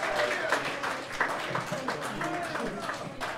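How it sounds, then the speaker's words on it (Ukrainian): Guests at a wedding clap for the couple, a steady patter of many hands, moderately loud and close, with voices talking over it. "Оплески, оплески, панове!"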